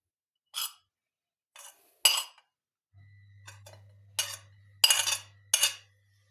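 Fork scraping and clinking against a dish while mixing a liver salad with egg, several sharp, close metallic taps in uneven bursts over a faint low hum.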